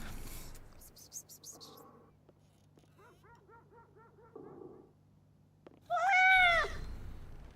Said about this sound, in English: I'm waiting for my cat to hear that cat.